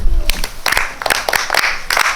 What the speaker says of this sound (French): Maintenant, applaudissez pour lui.